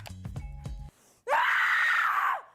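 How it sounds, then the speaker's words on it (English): A voice actor's angry scream recorded for video games, one loud, sustained, strained cry lasting about a second after a brief pause, preceded by other short vocal sounds. "Screams that come from a place of anger call for a clenched mouth and tighter body position."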